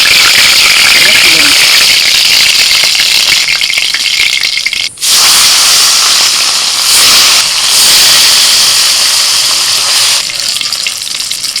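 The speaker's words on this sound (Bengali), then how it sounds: "বাটা মাছগুলোকে ভেজে নিলাম" Bata fish fries in hot oil, a loud, sustained sizzle and spatter with brief dips, one sharp clatter near the middle, and a voice talking faintly beneath.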